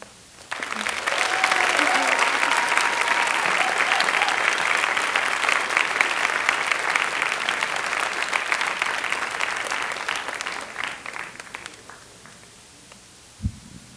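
A large audience applauds students after a performance, loud sustained clapping swelling quickly and holding for about eleven seconds before fading out, followed by a brief thump near the end.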